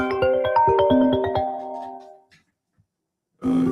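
A mobile phone ringtone plays a bright, bell-like melodic phrase close up, fades into near silence, then starts again at the end.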